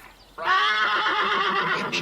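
A horse gives a loud, close whinny that starts suddenly and holds for well over a second, then tapers off, with no talking over it.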